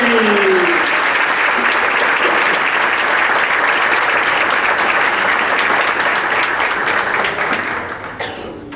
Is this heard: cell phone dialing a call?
no